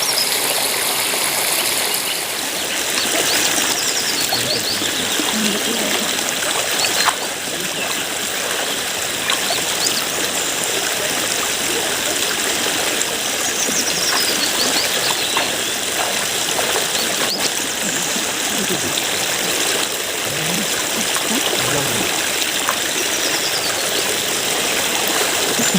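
Cold water spills down at a waterfall, a steady rushing stream with trickling and splashing layered in, continuous and fairly close throughout.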